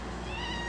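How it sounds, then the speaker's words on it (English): A cat gives a short, drawn-out meow indoors, a single crying call at moderate distance against a low background hum. "If you hear the crying of the cat, that is not my cat."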